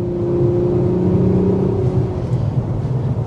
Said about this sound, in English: Does have a unique engine note as well.